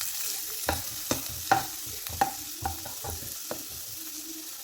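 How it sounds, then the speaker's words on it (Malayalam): Chopped onion frying in a pan for a capsicum and potato masala curry, a constant sizzle under a regular run of spatula taps and scrapes as it is stirred, with no talking. "ഉള്ളി ഇട്ട് കൊടുത്ത് ഒന്ന് ഇളക്കി കൊടുക്കാം."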